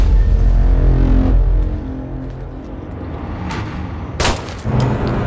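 Gunfire from a firearm in a STALKER-style Fallout 4 mod, a heavy boom at the start that fades, then a few sharp, loud shots near the end with a low rumbling backdrop.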